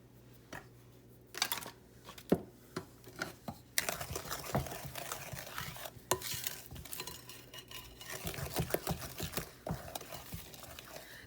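A wooden spoon stirs cookie dough for buttermilk chocolate chip cookies in a bowl, making close, irregular scraping and thumping strokes with soft gaps between bursts.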